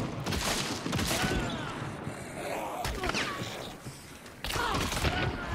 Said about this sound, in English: Shotgun, man.